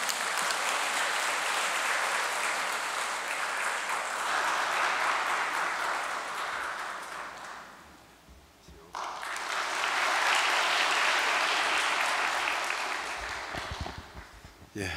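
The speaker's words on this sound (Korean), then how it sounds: "나오실 때 큰 박수로 환영해 주시기 바랍니다" Audience applause welcoming a speaker at a church gathering, two waves of steady clapping from a large crowd, separated by a brief dip when the sound briefly drops away.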